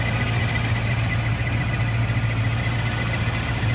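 Rover SD1 V8 engine running steadily close by during carburettor tuning, a continuous loud low idle hum with a faint rise in revs and no speech.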